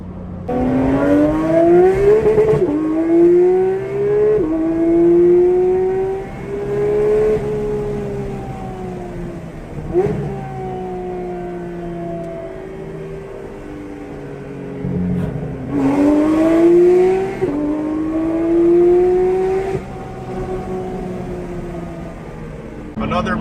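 Porsche 992 GT3 with a Dundon exhaust and PDK gearbox revving repeatedly, rising and falling engine notes in several loud sweeps close by, with a long steady high rev in the middle and sharper blips near the end.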